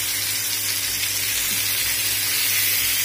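Barbecue chicken pieces sizzle on a tawa over a low flame just after being flipped, giving a steady, close, crackling hiss that fills the whole stretch without talk.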